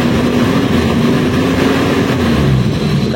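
A car engine is revved and held at about 2000 to 3000 RPM during an engine check, giving a loud, steady, continuous drone for a few seconds without any speech.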